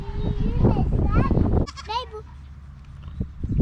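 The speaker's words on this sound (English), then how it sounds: "Baby goats." Baby goats on a farm pasture bleat several times in quick wavering cries, fairly close, with a lull and faint sounds afterward.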